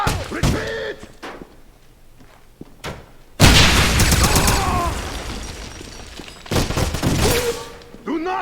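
A grenade blast in the shooter game Wolfenstein (2009) booms out loud and close midway, then decays into a long rumble, with sharp thuds and gunfire before it, more impacts after, and voices calling out.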